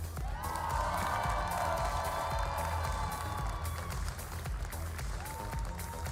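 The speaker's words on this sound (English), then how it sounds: "oh, the crowd, you hear that? That's a lot of cheering." A large audience at a Pokemon championship cheers and applauds steadily, a dense, sustained roar of clapping and voices with no one speaking over it.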